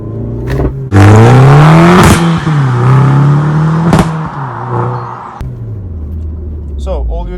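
Car engine revving hard through gear changes, with loud rising and falling harmonics, sharp crackling bursts and pops as the throttle is lifted mid-shift, close and prominent from start to finish.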